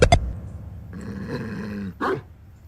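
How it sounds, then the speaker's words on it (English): A dog in the video game AA Investigations 2 lets out two sharp, loud barks at the start, followed by a low growl and one more bark near the end. "that was a realistic bark for a video game."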